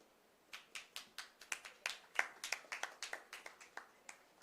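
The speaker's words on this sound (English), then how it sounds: "Once again, a big round of applause." Scattered hands clap at a clinic inauguration in Chennai, a thin, fairly quiet round of separate claps in a loose rhythm that starts after a brief pause.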